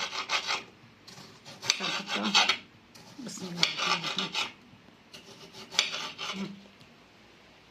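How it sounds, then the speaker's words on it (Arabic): A knife saws through tomatoes in several rasping strokes, each a second or so long, close and clear, with a brief spoken phrase near the start. "هلا بدي اقطع البندورات كمان"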